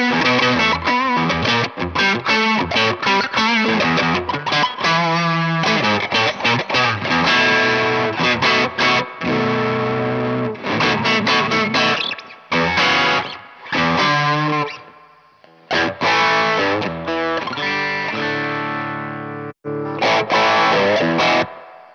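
Electric guitar played through a TC Electronic Ampworks Combo Deluxe 65 amp with a BOSS SD-1 overdrive pedal, loud distorted chords and riffs ringing continuously with a few brief pauses, no talking.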